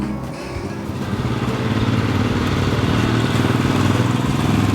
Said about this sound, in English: 535cc single cylinder engine.